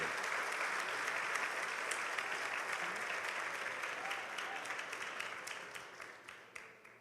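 Sustained applause from a church congregation, dense and steady throughout, gradually tapering toward the end with a few louder individual claps standing out.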